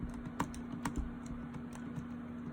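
Typing on a 2019 MacBook Pro laptop keyboard, a run of light, irregular key clicks with a few sharper taps, close up over a steady low electrical hum.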